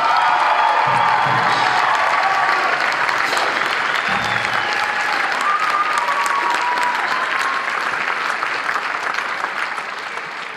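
A large audience at a marching band concert applauds the drum majors, with sustained clapping, scattered cheers and whoops that slowly thin toward the end.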